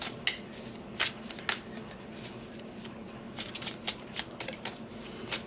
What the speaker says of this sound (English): Although these are tarot cards, I'm going to do it like that. So I just need 9 cards.